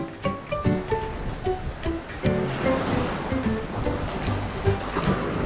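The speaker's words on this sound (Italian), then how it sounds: "Che bello il mare!" Sea waves wash steadily onto the shore in a broad, continuous surf roar. Light melodic music plays over the waves throughout.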